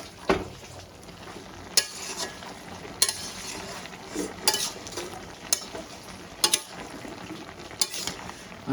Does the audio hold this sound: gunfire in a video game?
no